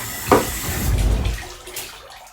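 A scrubbing brush for tooth care rinsed under running tap water, a short soft splash and gurgling stream lasting a couple of seconds, close and moderately loud with no talking.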